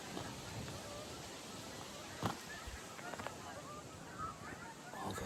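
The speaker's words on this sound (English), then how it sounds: "All those Canada geese." Honking from Canada geese in a migrating flock, a few distinct calls standing out over steady outdoor background noise, fairly distant and scattered across the clip.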